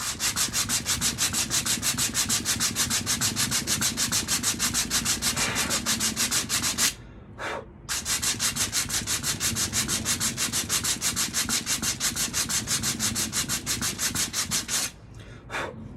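Hand sanding of a custom motorcycle helmet by hand, a rapid rhythmic rasp of strokes back and forth, close and steady, broken by two short pauses.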